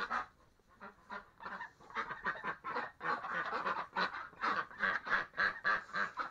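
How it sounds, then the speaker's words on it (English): Agitated domestic ducks quacking in a rapid, rhythmic run of loud, nasal calls, several birds overlapping close by, building in density toward the end. "Upset ducks."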